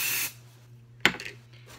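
Hairspray sprayed onto a thin section of hair before rolling: a short hiss at the start, then a brief sharp spray burst after a pause, close and quiet.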